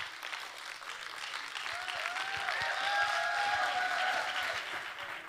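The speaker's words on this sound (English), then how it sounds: "Another round of applause, please, for Eric." Sustained applause from an awards ceremony audience, steady and full throughout, with a few faint whistles rising over the clapping.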